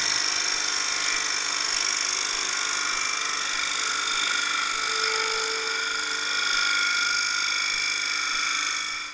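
A Robert Sorby multi-tip tool shear-scrapes wood on a lathe, giving a steady, continuous whirring hiss with a faint tonal whine, even and unbroken from start to finish.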